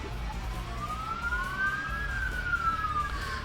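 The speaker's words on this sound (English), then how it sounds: "Oh, I know exactly what that fire truck is in the distance." A fire truck siren far off in the background, rising and falling in a slow wail above a low constant rumble of background noise.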